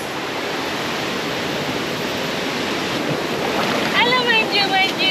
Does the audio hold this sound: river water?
yes